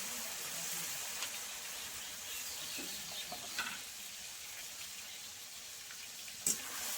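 Marinated prawns hit a hot pan and sizzle in a steady, fairly faint frying hiss, with a few small clinks and stirring scrapes.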